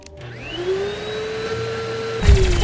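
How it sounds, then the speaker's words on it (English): A vacuum weapon in the Terraria Calamity Mod video game hums steadily, with a sweeping tone that rises then holds. The hum runs alone and loud, and a harsher buzzing burst comes in near the end. "It's a vacuum."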